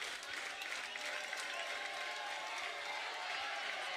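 A crowd at a climbing competition cheers and claps, a steady wash of applause and shouts with a voice talking over it.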